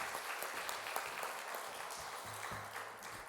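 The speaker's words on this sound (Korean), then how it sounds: "우리 박수로 환영하도록 하겠습니다" Congregation clapping together in a church during a dawn spring revival service, a steady wash of applause welcoming the pastor to the pulpit, moderately distant and filling the room without speech.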